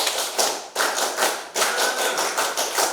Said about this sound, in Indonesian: Yuk, tepuk 5 pakai irama.